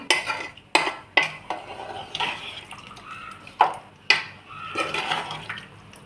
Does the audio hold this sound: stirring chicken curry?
yes